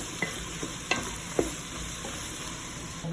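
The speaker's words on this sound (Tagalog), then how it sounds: "Haluin para magsama-sama na yung sangkap o yung lasa." Ingredients are stirred together in a sizzling pan, with a soft frying hiss under a few distinct, close clacks and scrapes of a utensil against the pan.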